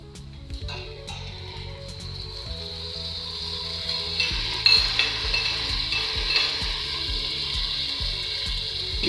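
Sausage frying in a pan while noodles with sausages and vegetables are cooked, giving a steady sizzle with occasional stirring scrapes and clatter, close and continuous.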